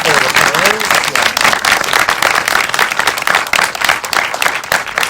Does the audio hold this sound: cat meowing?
no